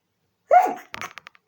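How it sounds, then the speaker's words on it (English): A single sharp sneeze up close, followed by a few quick breathy sniffs and clicks, otherwise quiet. "Oh, I've got a sneeze coming."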